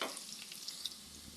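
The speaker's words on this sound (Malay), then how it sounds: "Kemudian tumislah bahan-bahan ini sehingga kekuningan dan naik bau." Sliced ingredients sauté in a pan for a mixed vegetable soup, a soft, quiet sizzle with light stirring clicks and scrapes close by.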